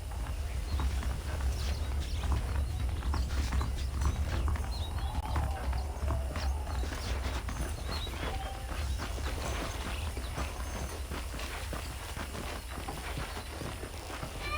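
A horse's hooves clip-clop in the video game Red Dead Redemption, a steady walking rhythm of hoof beats over a low rumbling background, continuous and moderately loud throughout.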